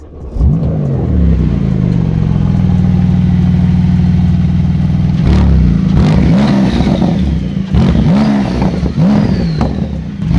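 A sports car engine, a Ford Mustang Shelby GT500 or Porsche 911 GT2 RS, idles with a low steady rumble while warming up, then revs up sharply several times in short bursts, loud and close.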